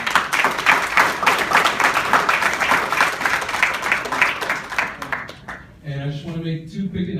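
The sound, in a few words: audience applause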